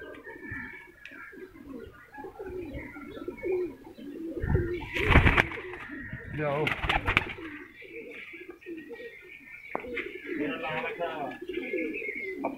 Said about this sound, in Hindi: ये बटेरा कबूतर है